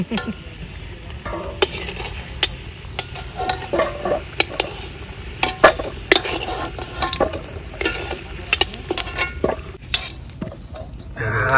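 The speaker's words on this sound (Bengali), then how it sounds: "আলুগুলো পুরো করে ভাজবো" Potatoes fry in a pan with a constant sizzle while a utensil stirs and scrapes, producing irregular clinks and knocks against the metal, close and fairly loud, with no talking.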